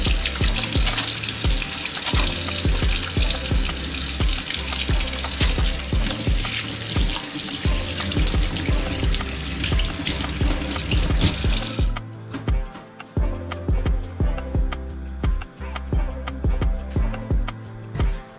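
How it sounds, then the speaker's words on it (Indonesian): Hands are washed under a running tap, making a continuous rushing splash of water with shifting scrubbing sounds. It stays loud and close for about twelve seconds, then turns thinner and more broken. "cuci tangan dulu ya"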